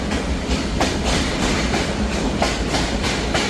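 The Banalata Express train on its run from Dhaka to Rajshahi rolls along with a steady clickety-clack of wheels on rail joints, loud and continuous, with no talking.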